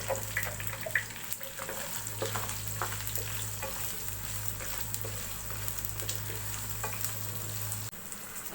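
Onions frying in hot oil with cardamom, cloves and cinnamon for a beef bhuna, a steady close sizzle with stirring scrapes under a low constant hum that cuts out near the end.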